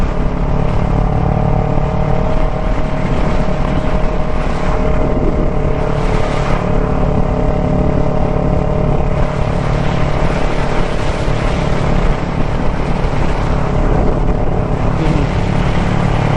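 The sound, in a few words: Nissan Z car driving at speed on the highway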